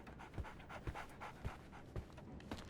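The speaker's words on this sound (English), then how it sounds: "So, Barnes has a dog now." A dog in the game Sherlock Holmes: The Awakened pants in quick, soft, rhythmic breaths, close and faint, with no talk over it.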